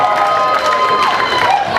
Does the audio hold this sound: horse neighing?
no